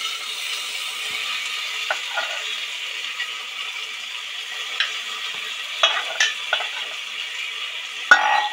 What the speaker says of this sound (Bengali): ভাজা হচ্ছে, এটা ভাজা হয়ে